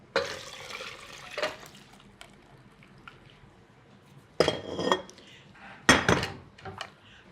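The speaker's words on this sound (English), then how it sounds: "we can just pour everything right back into the pot" Custard and hot cream are poured back into a pot amid scattered clinks and scrapes of a pan and utensils, with short wet splashing bursts separated by quieter stretches, close and moderately loud.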